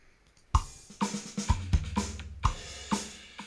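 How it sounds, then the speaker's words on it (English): A snare drum fill is played in GarageBand, with sharp close hits in an uneven quick rhythm over a low sustained tone, and no talking. "So that sound you can hear is the snare drum."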